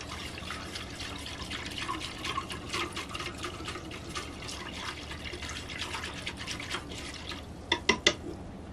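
Sugar water stirred in a bowl with a spoon, a continuous close swishing and sloshing of liquid with small clinks near the end, and no voices over it.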